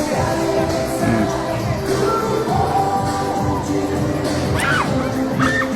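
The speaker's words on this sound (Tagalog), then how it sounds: "hiyawan yung mga tao eh, di ba?" Crowd of people at an outdoor political campaign gathering in Manila's District 2 shouts and cheers continuously, a loud dense roar with scattered higher yells and whoops rising above it.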